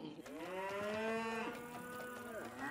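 A cow moos in a Family Guy cartoon farm scene, one long drawn-out bellow with strong harmonic tones that sustains loud and close for nearly three seconds before bending down at the end, with no talk over it.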